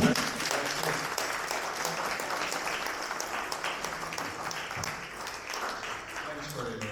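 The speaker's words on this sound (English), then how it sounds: "A huge and overwhelming applause is appropriate," An audience at a dinner breaks into loud, sustained applause, a dense wash of many hands clapping steadily for several seconds with some voices mixed in.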